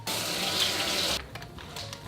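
Kitchen tap water running steadily over food being washed for a sous vide dish, a loud close rush that cuts off partway, followed by faint clatter.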